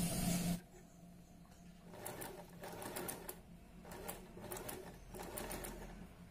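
A sewing machine stitches a sweetheart neckline on a garment, running in several short, quiet bursts of rapid needle clatter separated by brief pauses.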